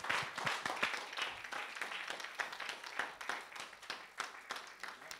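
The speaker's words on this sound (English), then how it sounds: "Someone give the Lord a clap offering" A church congregation clapping together after a sermon, quick distinct handclaps in an uneven rhythm, moderately loud and close, with a faint voice or two underneath.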